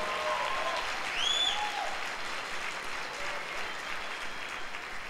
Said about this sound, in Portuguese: Então dá um aplauso ao Senhor.